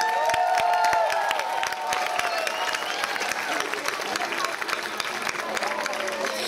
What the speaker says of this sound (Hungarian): És természetesen tapsoljuk meg Stauroczki Balást a közreműködéséért